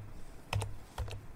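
Keys tapped on a computer keyboard while entering network commands, two short pairs of close clicks separated by a brief pause, quiet and alone.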